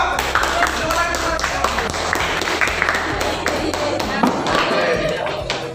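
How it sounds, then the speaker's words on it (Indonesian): Students in a classroom clap for a group of classmates, a steady patter of many hands with sharp taps standing out, while faint voices mix in. "Tepuk tangan kelompok 5"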